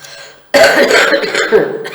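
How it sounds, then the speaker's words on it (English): A sudden, harsh cough bursts out after a brief quiet moment, loud and close, with rough breathy noise trailing on. "I've still got a little bit of a cough"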